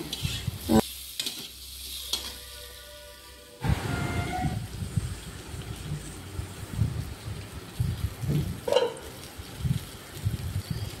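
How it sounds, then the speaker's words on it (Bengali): Potatoes frying in oil in a pan are stirred, a few scraping knocks giving way to a steady, close sizzle that carries on with occasional utensil clinks and no talk. "আলুগুলিকে একটু নাড়াচাড়া করে দেবো।"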